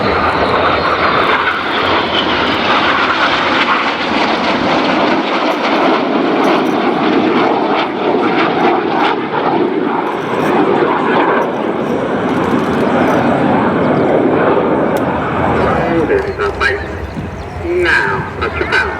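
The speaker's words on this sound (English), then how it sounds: "let's give the Synchro pair a wave as they fly past upside down." Synchro pair display aircraft roaring past inverted at the Biggin Hill air show, a loud sustained engine drone that swells and fades across the whole stretch, with a public-address commentator talking over it.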